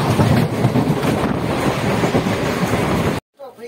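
A passenger train arriving at Madhubani station, heard from on board as a loud continuous rumble with clattering wheels and wind across the microphone, ending abruptly in near silence.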